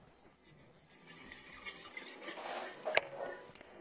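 A spoon scrapes and clinks against a bowl while egg, melted butter and milk are mixed for Cinnabon dough, with irregular soft stirring, rubbing and a few brighter chinks, close and fairly quiet.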